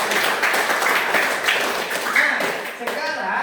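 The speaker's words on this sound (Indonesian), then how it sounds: "Tepuk tangan untuk kelompok 1." Group applause in a classroom, a dense patter of hand clapping lasting the whole moment, with voices mixed in.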